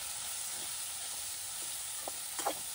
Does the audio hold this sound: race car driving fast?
no